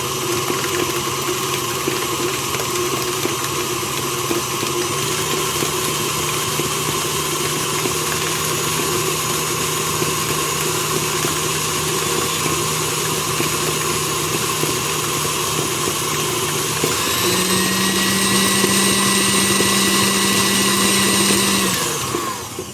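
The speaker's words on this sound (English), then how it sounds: "now since we're adding more sugar, we're going to mix it well again" An electric mixer whirs steadily through white chocolate peppermint pie filling with added sugar, a loud, even motor drone with no talking. Near the end the pitch rises and brightens briefly before the motor winds down.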